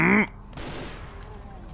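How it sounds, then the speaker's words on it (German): A sharp burst of gunfire in the video game Brutal Doom, followed by a short reverberant tail fading out. "Zwei Schüsse in die Schulter und er ist tot."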